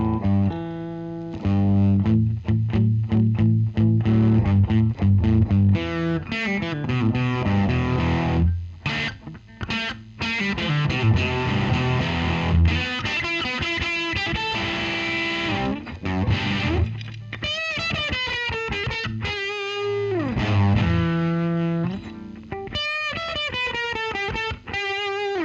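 An electric guitar played through a DIY Deacy amp built on tagboard, a compressed, mid-heavy overdriven tone playing a continuous lead melody with bends and chords for about 25 seconds, loud and alone.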